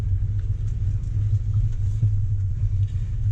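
Range Rover Velar creeping off-road in first gear with sport mode engaged, a steady low engine rumble holding constant throughout with faint mechanical ticks above, close and continuous.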